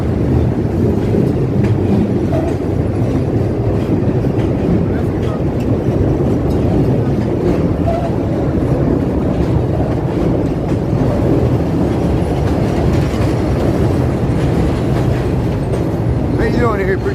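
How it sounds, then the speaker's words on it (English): A Chicago elevated train rolls past close by on the tracks, a steady loud rumble and clickety-clack of rail cars that lasts the whole clip with only slight swells, while people talk faintly underneath. "Here goes the train here."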